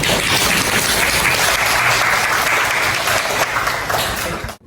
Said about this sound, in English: Please clap your hand to welcome our teacher.